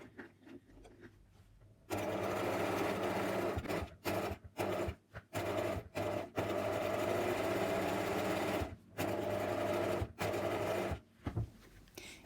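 A sewing machine stitches around an appliqué piece in several runs of steady, close, buzzing needle action, separated by short pauses as it slows and stops at corners.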